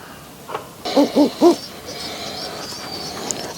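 Three distinct, evenly spaced coos from a Rajshahi Giribaz pigeon sound close and clear, preceded by a softer note, against a quiet background.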